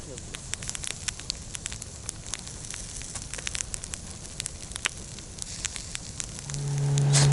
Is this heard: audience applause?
no